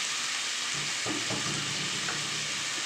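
Radish greens fry with garlic and black cumin while being stirred, a loud continuous close sizzle with a few soft scrapes of the spatula rising through it.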